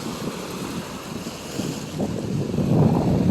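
Sea wind blows along a coast where fishing boats head out, a steady rushing buffet across the microphone that swells louder toward the end, mixed with a faint wash of water.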